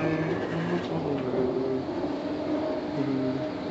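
A GWR Hitachi Class 802 train, unit 802106, heard onboard between Paddington and Slough, gives a continuous rolling roar with faint rising and falling motor whines layered over the steady running noise.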